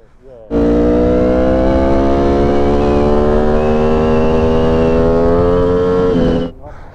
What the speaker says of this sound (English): And I got a two into one exhaust semi system.